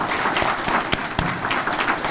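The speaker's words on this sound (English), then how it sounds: "let's give him a round of applause for good support" Audience applause fills a convention banquet hall for firefighters' association officers, a dense, steady wash of many hands clapping throughout, with a couple of sharper claps standing out.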